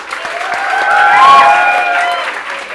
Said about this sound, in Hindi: जोरदार तालियां अपने लिए।